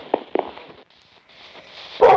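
Two sharp Minecraft dog barks close together at the start, then a quiet stretch, followed by another louder burst near the end, with light game background noise.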